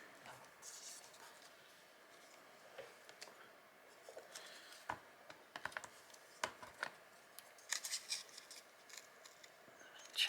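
Scissors snipping paper mushrooms during fussy cutting for a papercraft project, a series of quiet, scattered snips and rustles close up, with faint soft paper handling between cuts and no talking.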